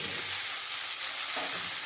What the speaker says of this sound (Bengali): আমি সবজিটা একটু লাল লাল করে একটু ভেজে নেব।